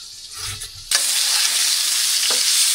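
Chopped raw tomatoes and potatoes hit a hot oiled pan, bursting into a loud, dense sizzle after a brief quieter moment, then frying on steadily close up.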